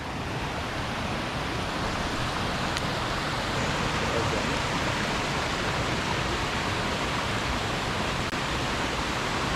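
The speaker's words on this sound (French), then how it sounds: "On est arrivé à la belle petite cascade." A small waterfall on a hike in northern Colombia gives a steady, dense rush of falling water that stays loud and unbroken throughout.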